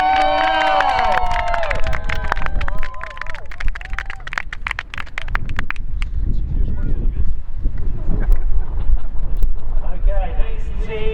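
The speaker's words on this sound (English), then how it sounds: "Give them a big round of applause" A crowd cheers and whoops for the Dongfang Race Team at a Volvo Ocean Race sailing event at Kai Tak Cruise Terminal, with honking horn-like calls and steady talking mixed into the lively, continuous noise.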